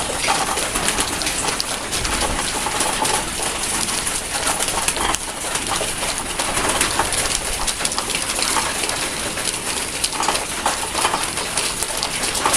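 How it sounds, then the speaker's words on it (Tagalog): Racing pigeons in a loft coo and call steadily throughout, their soft calls blending with a constant hissy background and a faint patter like light rain, with no talk. "Dami na nating ibon guys."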